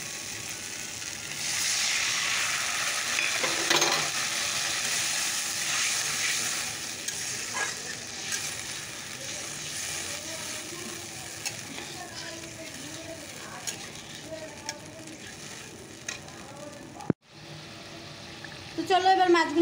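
Gravy poured into fried, well-cooked spice paste in a pan for a home-style Bengali fish curry sizzles loudly and steadily at first, then settles into a softer simmer with stirring and a sharp click near the end.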